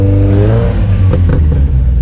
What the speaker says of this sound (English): What have we got revving out here?